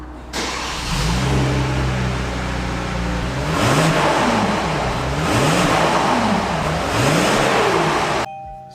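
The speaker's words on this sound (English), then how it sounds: "Let me just start the engine." A Kia Stinger GTS engine cranks and catches, then settles into a loud idle with several rising and falling revs, cutting off abruptly at the end.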